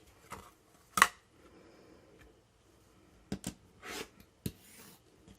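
Scissors cutting fabric while trimming quilt pieces, heard as a few sharp, scattered snips and crisp shearing sounds, fairly close and quiet, separated by soft rustling and pauses, with no talking.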